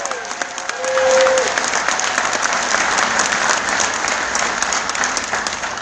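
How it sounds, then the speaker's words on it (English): An audience at a presentation gives a round of applause, a dense, loud wash of many hands clapping that swells after the first second and holds steady to the end, with a few voices mixed in. "But if you can give him a round of applause too."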